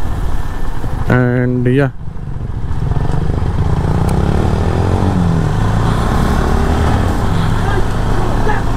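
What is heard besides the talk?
motorcycle starting a ride at Coronation Bridge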